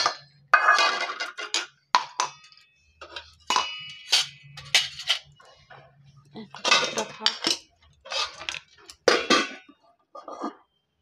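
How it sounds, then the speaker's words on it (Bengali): Metal utensils, bowls, pots and pans are handled and stacked in a home kitchen, producing sporadic clinks and clatters in short bursts with quiet pauses between, close and clear. "এই বাসনগুলোকে একটু টুকটাক করে গুছিয়ে রাখি"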